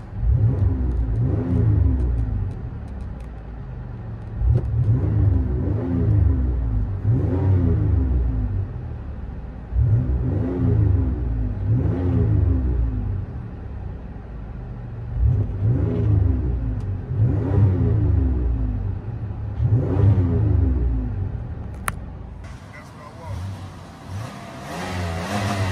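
V6 engine exhaust heard from inside the car: about five loud rev cycles, each a rising roar that swells and falls back to a low rumble, spaced a few seconds apart.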